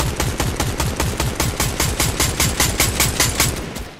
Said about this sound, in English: Guys, they're trying to shoot our build down.